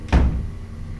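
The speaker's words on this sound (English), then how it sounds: "I heard the door shut. I heard a door slam." A door slams shut inside a reportedly haunted family house in Vermont, one sharp, close, heavy impact followed by a short boomy decay into room tone.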